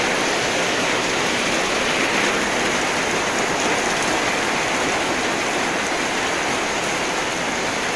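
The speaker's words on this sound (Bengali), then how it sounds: "কি হারে বৃষ্টি না" Heavy rain pours down in a steady, dense hiss that never lets up, loud and close, with no voices.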